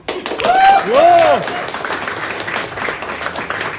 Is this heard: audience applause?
yes